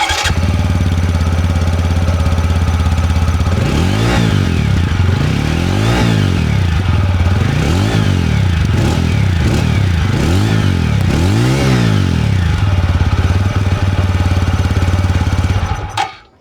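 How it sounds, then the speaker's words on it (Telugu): A 2025 TVS Apache RTR 200 4V motorcycle with a double-barrel matte black exhaust idles close by, then revs in a series of sharp throttle blips that rise and fall over a steady, loud engine rumble. "ఈ బైక్ ఎగ్జాస్ట్ నోట్ ఎలా ఉందో ఒకసారి చూద్దాం మనం"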